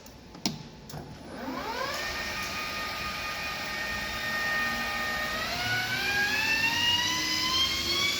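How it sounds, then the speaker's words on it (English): A metal lathe spins up to face off a nub on a pen holder with a turning tool. Its motor whine climbs in pitch, then holds steady and rises again with a constant mechanical hum. "you're going to go back to your normal turning tool and you're just going to face this nub off"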